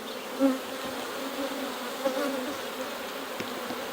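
Honeybees drone steadily inside an open hive of honey- and pollen-filled comb, a continuous close buzz with a few louder passes as individual bees fly near.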